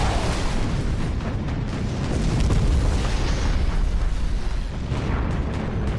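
A bomb striking an airfield hangar in the video game Battlestations Pacific, a loud sustained explosion with deep rumbling roar and crackling debris that holds at full intensity for several seconds before easing slightly.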